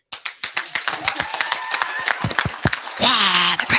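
A crowd at a township committee meeting applauds after a municipal clerk takes the oath of office. Scattered, then denser clapping rises and continues as voices begin over it.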